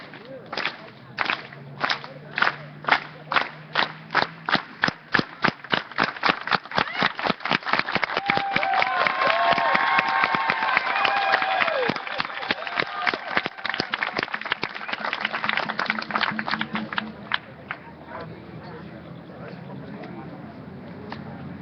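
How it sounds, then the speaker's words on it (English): A crowd at an Occupy Los Angeles meeting in 2011 does a unity clap, starting with slow, spaced claps that quicken into a rapid, building burst of applause before fading into a scatter of claps. "please join me in the clap"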